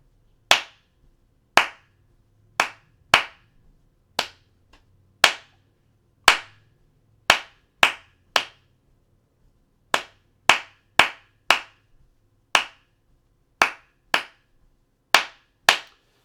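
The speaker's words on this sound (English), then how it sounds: "clap the top line again. This time, I'm going to clap the bottom line" A single person claps rhythm lines by hand, producing sharp, dry, close claps in an uneven but steady pattern with short gaps between phrases, alone and with no voice.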